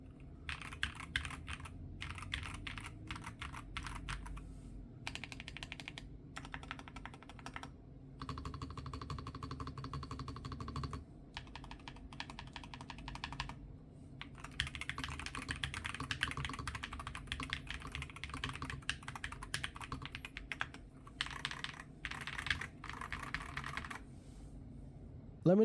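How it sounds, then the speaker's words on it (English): Close-up clacky typing on a NuPhy Field 75 HE mechanical keyboard, rapid bursts of keystrokes broken by short pauses, with no talking. "the keyboard feels very nice to type on, and in my opinion, it sounds great."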